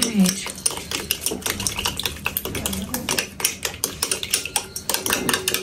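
Eggs whisked in a bowl with sugar for a bread-frying breakfast, a fast run of sharp ticking strikes against the bowl, close and steady throughout.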